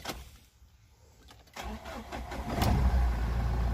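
A Mahindra Scorpio diesel engine cranks with a short starter whir, then catches and settles into a loud, steady diesel idle close by.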